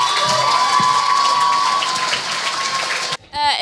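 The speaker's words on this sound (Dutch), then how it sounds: "geef haar een heel groot applaus" Cheering and applause from an audience at a school talent show, a loud sustained wash of clapping and shouts that cuts off abruptly near the end, followed by a brief tonal burst.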